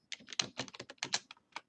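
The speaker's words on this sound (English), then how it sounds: "to add your own items, you just go to the particular day that you want to add the item to and just type it directly in the cells" Typing on a computer keyboard produces a short burst of close, crisp key clicks in quick irregular rhythm, with a brief pause before a final tap.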